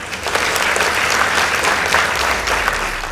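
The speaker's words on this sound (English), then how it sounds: "Let's give them a round of applause." Steady, dense applause from an audience at a school debate between Kihatha High School and Mumbi Girls High School, continuous and fairly loud from start to finish with no talk over it.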